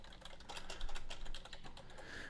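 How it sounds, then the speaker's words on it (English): Rapid typing on a computer keyboard, a quick irregular run of light plastic key clicks heard close and fairly quiet, with no one talking. "you can type out your text."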